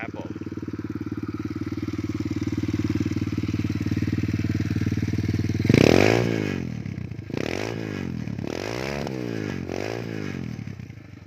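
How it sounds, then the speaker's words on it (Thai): A 125cc dirt bike's engine cranks and fires up, then settles into a steady mid-pitched idle broken by a few throttle blips, heard up close. "ครับเดี๋ยวเราลองสตาร์ทเครื่องดูนะครับผม"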